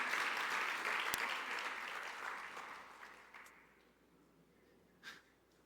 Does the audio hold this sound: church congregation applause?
yes